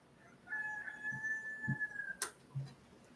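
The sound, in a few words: rooster crowing at dawn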